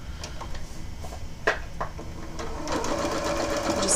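A sewing machine stitches quilt fabric in a steady motorized whir for several seconds, with a couple of light clicks early on and the running growing a little louder toward the end.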